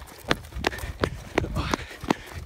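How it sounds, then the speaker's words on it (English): Quick, heavy footsteps of people running away from a doorstep after a doorbell prank, thudding in an even rhythm of about three strides per second, close and fairly loud. "You're gonna hear footsteps."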